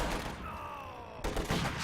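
Gunfire in the Company of Heroes 2 strategy game, a burst of rifle and machine-gun shots with a whistling streak overhead, followed by sharper nearby shots after a short lull.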